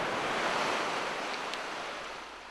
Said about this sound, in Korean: 차오르나 싶어도 삽시간에 통발을 집어삼키는 바닷물